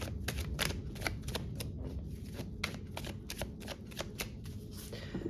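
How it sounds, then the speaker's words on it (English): Tarot or oracle cards are pulled and shuffled for a pick-a-card reading, giving a series of crisp, close riffling and snapping flutters repeating in an uneven rhythm, with no talk. "let's pull some more cards"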